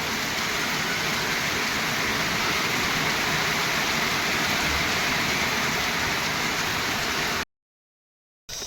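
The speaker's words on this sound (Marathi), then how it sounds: "लगेच पावसाला सुरुवात" Heavy rain pours down in a dense, even roar that hardly varies and stays loud for several seconds, then cuts off abruptly.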